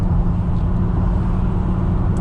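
A Dodge Charger 392 Scat Pack engine rumbles loud and close, giving a steady, dense low roar that holds even throughout with no distinct revving peaks and no talking.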